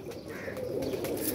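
Pigeons, mostly red-eyed flying birds kept by a fancier, coo steadily and close by, a soft continuous rolling murmur with faint chirps mixed in.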